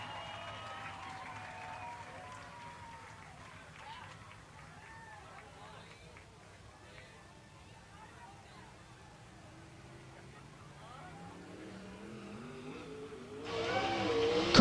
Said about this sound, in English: Car comes right back up to speed.